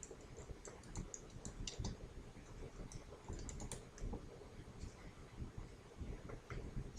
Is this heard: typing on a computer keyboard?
yes